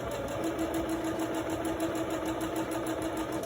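A home sewing machine back stitches a fabric face mask, giving a continuous close motor whir with a fast, even needle rhythm and no pause or talk.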